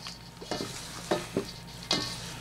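Cheesy potatoes with kosher salt being stirred in a pan, a few distinct scraping strokes over a soft steady background, fairly close and moderately loud, no talking.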